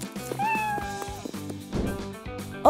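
A cat meows clearly and close by, with a drawn-out cry followed by shorter calls over a soft musical backdrop in an animated scene.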